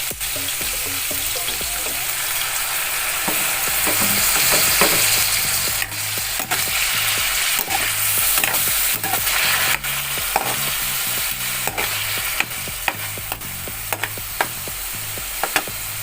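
Beef caldereta sizzles loudly in a frying pan while a utensil stirs it, with repeated scraping strokes and clacks over the constant frying hiss, close up and without talk.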